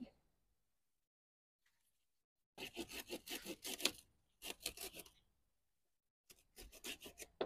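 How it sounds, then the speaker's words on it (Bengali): Sugarcane stalk cut by hand on a rooftop garden, heard as three bursts of rough rasping, scraping strokes separated by silence, close and moderately loud. "তাহলে একটা আমি আখ কাটছি আপনাদের দেখানোর জন্য"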